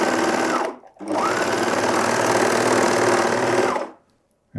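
A Juki MO-2000QVP overlocker stitches a seam on lycra in two loud, fast whirring runs, a short one then a longer steady one, each ending abruptly in silence, heard close with no talking.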